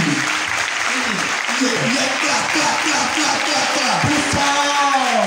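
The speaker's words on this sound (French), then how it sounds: "Acclame fort pour le Seigneur Jésus." A church congregation claps loudly and steadily as a dense, continuous wash of applause, while a voice carries on over the top.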